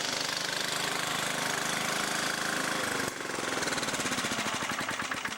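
A lawn mower engine left running sits idling nearby, with a steady rough chug that turns into a choppier, pulsing knock partway through.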